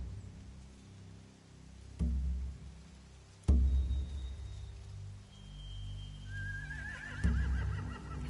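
Horses whinny and neigh in a video game set around a boat and hay, with a few sudden thumps and rising shrill calls over a quiet low background.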